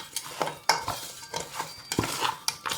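Raw mutton being mixed by hand with turmeric and salt in a metal vessel for salted dried meat, giving repeated close squelching stirs and clinks of the pot in an irregular rhythm, with no talk.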